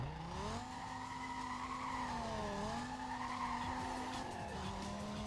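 A Dodge Viper SRT10 in Need For Speed Most Wanted, its engine holding a steady rising and dipping drone while tires squeal and skid continuously, faint and alone without talk.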